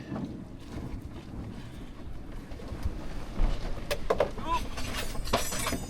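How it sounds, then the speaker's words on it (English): Strong wind buffets a sailboat near Plymouth in high gusts, a steady low roar of wind noise on the microphone with water sloshing against the hull, faint bird calls and brief voices. "Well, the wind just took us."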